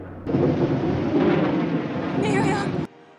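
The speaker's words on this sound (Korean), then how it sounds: "갑자기 어두워지는 하늘, 그리고 거센 바람과 천둥." A storm scene from the film Ben-Hur, with thunder and a strong wind under a darkening sky. It gives a loud, continuous roaring rumble for about two and a half seconds, then cuts off abruptly.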